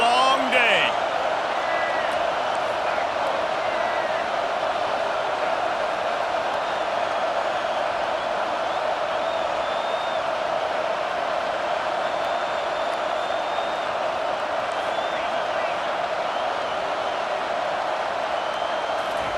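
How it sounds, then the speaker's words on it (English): Steady stadium crowd roar in College Football 25, a dense, sustained wash of massed voices holding loud and even throughout, with faint whistle-like tones and a commentator talking over it. "This crowd, full throat, spreading the eardrums and letting them know it's going to be a long day."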